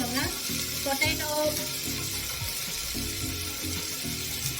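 Tomato and vegetables for a vegetable biryani sizzle and fry in a pan with a steady crackle, stirred now and then.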